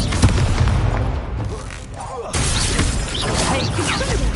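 A fire spell cast in the video game Hogwarts Legacy: a sharp burst with crackling, shattering texture, a brief lull, then a renewed loud roar, with game voices and battle noise mixed in.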